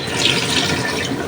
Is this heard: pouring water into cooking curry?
yes